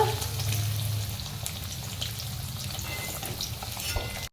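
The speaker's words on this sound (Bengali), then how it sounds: "আমরা পেঁয়াজটা ভালো করে ভেজে নিয়েছি" Onion sizzles and fries in a pan for a Bengali matar paneer, a steady close crackling hiss with occasional stirring scrapes and no talking.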